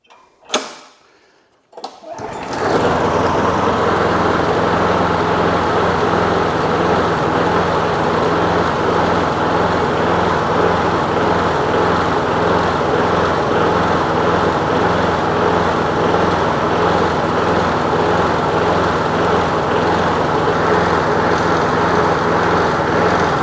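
A push lawn mower with a surging engine, primed and pull-started indoors on a floor, catches after a brief rattle of the starter and then runs at a loud, steady, close idle until the end.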